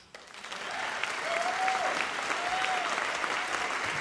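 An audience applauds a storyteller at a live storytelling slam in Detroit, clapping that swells quickly and holds as a dense, sustained wash, with a faint whistle-like tone drifting through.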